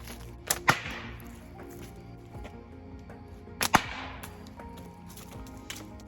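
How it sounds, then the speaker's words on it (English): Slingshot firing 18 mm lead balls into a wooden board outdoors: two sharp, loud snapping impacts a few seconds apart, each a quick double crack with a short ringing tail, over faint background noise. "I'm gonna fire an 18 millimeter ball at this wooden board"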